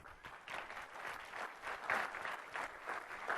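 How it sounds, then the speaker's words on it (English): Steady applause from a conference audience at a Microsoft technology event, sustained clapping filling the hall without a break for several seconds. "let's give him a round of applause."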